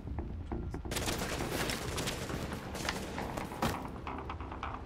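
Dense gunfire from the video game The Division, a sustained barrage of overlapping shots and bursts at steady loudness with thuds mixed in, and no talking.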